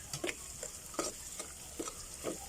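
Ginger, garlic and onion sautéing in a pan for a Filipino mussel dish, with faint, evenly spaced stirring scrapes over a soft, steady sizzle.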